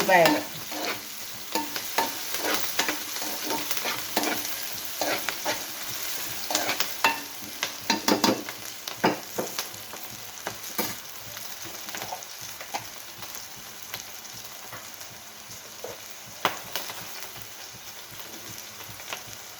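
Brinjal and chana dal curry with curry leaves fries in a pan while being stirred. There is a continuous close sizzle with frequent scraping spatula strokes and clatter throughout.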